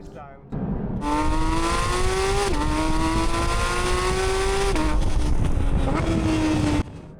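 A sports car engine revs hard and close, climbing in pitch through several gear shifts, each rising whine dropping back before climbing again.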